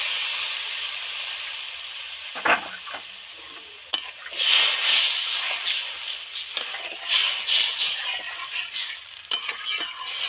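Water poured into a pan of simmering Bengali Amudi fish curry brings on sharp, loud sizzling and hissing steam in bursts, along with stirring sounds and no talk.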